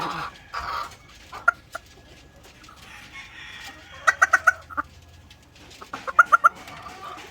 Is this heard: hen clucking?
yes